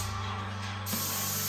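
A paint sprayer hisses steadily while laying down the first coat on a shack roof, a loud continuous spray that holds for the whole stretch.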